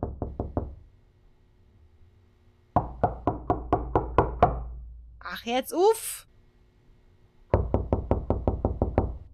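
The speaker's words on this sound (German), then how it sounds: "Ich kann aber auch dagegen klopfen." Knocking on a door in a video game comes in three rapid bursts of sharp, close raps, each a quick series of about five to nine knocks separated by quiet gaps, with a short spoken exclamation between the second and third bursts.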